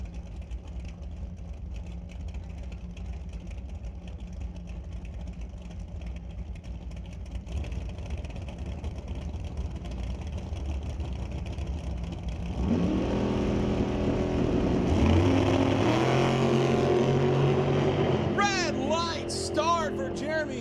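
A 1969 Camaro drag race car launches at a drag strip, its engine building from a steady rumble into a loud, rising roar that swells and holds near the end, with an announcer's voice running over it.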